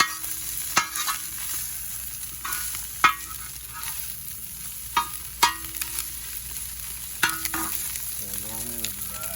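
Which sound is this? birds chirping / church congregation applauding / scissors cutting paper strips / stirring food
stirring food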